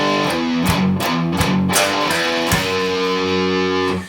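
Distorted electric guitar plays a variation of a riff, chugging palm-muted power chords with short rhythmic stops, loud and close with no talk.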